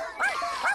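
A small dog yaps twice in quick succession, two short high barks close by with a faint background hum.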